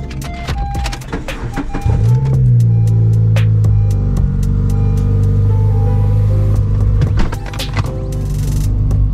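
A Ford Mustang engine cold starts after a brief starter crank, settling into a loud, steady, low idle close to the microphone with a few clicks and knocks over it.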